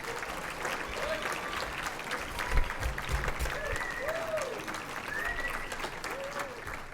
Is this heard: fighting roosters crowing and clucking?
no